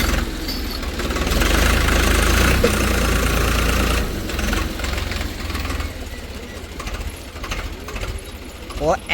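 Tractor engine running hard while pulling out two stuck cars off-road, a loud steady rumble near the mic that eases partway through, with people talking over it.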